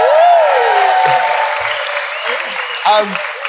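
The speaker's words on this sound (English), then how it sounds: "a round of applause for Katie" Audience applause at a talent show final, a dense sustained wash of clapping heard up close, with a voice talking over it and a brief louder swell near the end.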